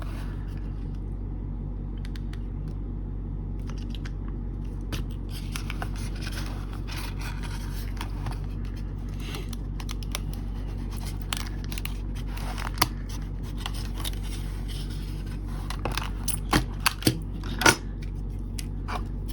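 A toy Party Wagon vehicle from a cartoon is unpacked from its cardboard box, with steady crinkling, rubbing and scraping of packaging and a few sharp clicks and snaps near the end, close up and without talk.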